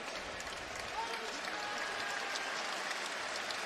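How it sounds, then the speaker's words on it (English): A basketball arena crowd applauds Giannis Antetokounmpo after his knee injury, a steady, dense wash of clapping that fills the whole clip at an even level, with faint voices mixed in. "And here's the applause"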